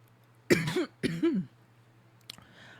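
Two harsh, close coughs in quick succession, followed by a faint click and quiet rustle.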